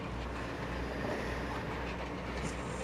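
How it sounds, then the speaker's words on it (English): A train passes in Farm Sim 25: a steady, loud rumbling rail roar fills the whole stretch without pause, with no talking over it. "Here comes the train again."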